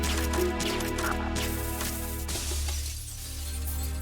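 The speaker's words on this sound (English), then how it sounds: "Everybody knows that the glass breaks if you keep shooting it" Glass shatters from gunfire in Metal Gear Solid 2, heard as a loud break followed by scattered tinkling fragments over a steady low game hum.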